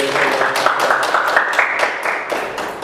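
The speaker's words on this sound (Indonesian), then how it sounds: "Baik, tepuk tangan." University students in an Indonesian classroom clap together, a brisk, steady burst of many hands, fairly close and lasting a few seconds.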